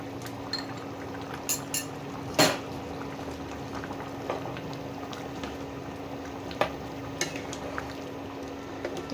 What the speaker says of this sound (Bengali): নামাবার আগে একটুখানি ফুটবে